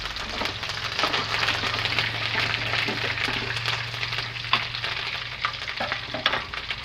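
Curry leaves and seeds crackle and sizzle in hot oil in a pan while making rava upma, a loud continuous close frying hiss with scattered pops, no voices.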